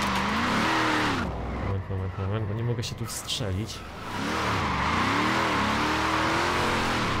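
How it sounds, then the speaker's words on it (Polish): A Mustang drifts in Forza Horizon 4, its engine droning and revving with tire squeal and skidding as it slides around an open lot, while someone talks over it throughout. "Wow, bardzo lubię sobie tu driftować"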